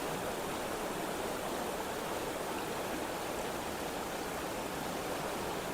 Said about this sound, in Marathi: त्याच्यावर आपला संदीप दादा दगड ठेवतोय, म्हणजे तो आपल्या पाण्याच्या फोर्सने वाहून जाऊ नये म्हणून.